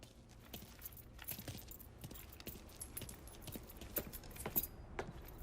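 Keys jangle in the video game Mafia III, a faint run of irregular metallic clinks and rattles spread across about five seconds over a soft background hush, with no talking.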